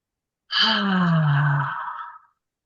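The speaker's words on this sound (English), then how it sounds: "Just take a deep breath." One long, audible sigh-like exhale about a second and a half long, close and breathy, fading out, in a quiet room during a guided breathing moment.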